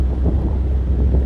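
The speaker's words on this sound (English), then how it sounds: "Wind's kicking up." Wind rumbles and buffets across the microphone in a steady low roar on the Murray River, aboard a small aluminium tinny with the water close by. No voices break through.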